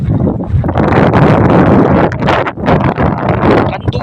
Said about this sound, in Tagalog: So pag ganyan malakas ang hangin